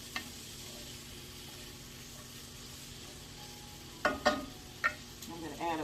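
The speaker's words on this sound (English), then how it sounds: "we're going to let this sizzle here for a while before we get ready to add the rice in" A soft, steady sizzle of food frying in a pan, with a few clinks and stirring noises near the end.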